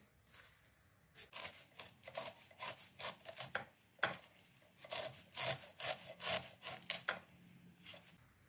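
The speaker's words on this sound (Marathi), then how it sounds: "असं एकदम बारीक अशी ही पानं चिरून घ्यायची आहेत" A knife finely chops taro (alu) leaves on a board in quick, rhythmic bursts of crisp strokes, near and fairly quiet, with brief pauses between runs.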